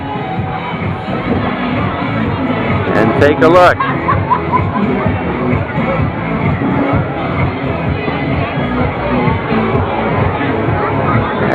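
A festive crowd at the Baker's Dozen beer run in Marshall, Michigan, a dense outdoor babble of many voices with scattered shouts and a brief burst of cheering, a nearby person speaking over it.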